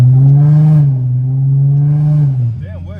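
A supercharged Infiniti G37 with a Z1 supercharger and single ISR exhaust revs inside the car on a ride-along, a loud steady engine drone that holds pitch, dips briefly, then drops off as the revs fall.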